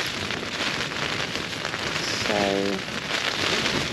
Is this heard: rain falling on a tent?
yes